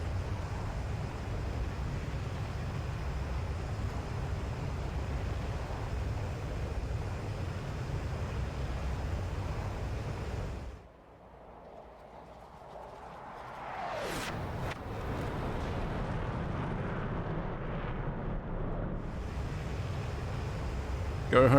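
AJS37 Viggen jet in the DCS combat flight game makes a high-speed flyby while dropping flares: a steady loud engine roar cuts out, then a sharp rising whoosh sweeps past before the roar returns.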